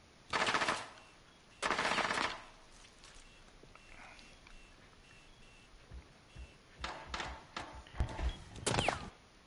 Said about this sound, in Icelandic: Ég bara heyrði skot í baki á mér